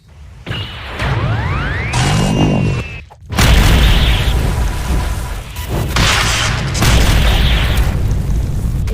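A rocket attack in the Roblox fighting game Anime Battle Arena fires with rising whistling whooshes, then loud booming explosions roar continuously with short dips, heavy and close, no voices.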